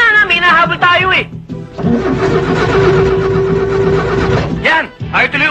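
A car engine out of gas cranks repeatedly without catching, a long grinding whir under excited voices talking before and after.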